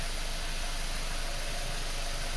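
A Suzuki Jimny engine idling quietly during a vehicle inspection, a steady low hum with faint vibration and hiss, even and continuous with no talk.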